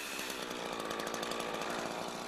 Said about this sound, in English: Saw until you have enough room to push in a breaking bar.